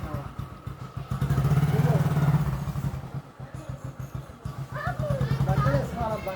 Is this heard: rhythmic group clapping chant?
no